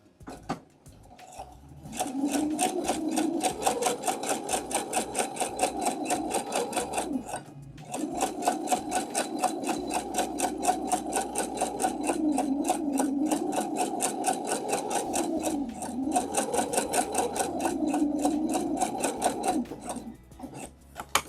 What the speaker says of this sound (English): I've already got my machine set up here for the basting stitch, so I'm going to go ahead and do that